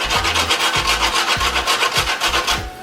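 Whole nutmeg grated on a grater for a cranberry sauce, loud close rasping strokes in a quick steady rhythm of about five scrapes, each a gritty scratch, alone without talk.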